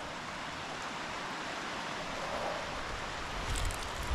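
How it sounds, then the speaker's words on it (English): Deer Creek rushes below a bright new white bridge at Susquehanna State Park, a steady, full broadband roar of fast-flowing water that swells slightly toward the end, with no voices. "Deer Creek raging below."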